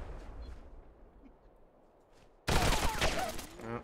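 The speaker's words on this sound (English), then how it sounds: "I threw a nade." A grenade goes off in a first-person shooter match: a quiet stretch with faint background noise, then a sudden loud broadband blast with gunfire-like crackle and rumble carrying on for over a second.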